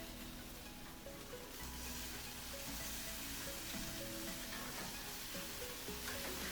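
Chicken burger patties grilling over hardwood charcoal give off a steady, close sizzle and crackle of fat hitting hot coals, continuous and fairly quiet with no voices.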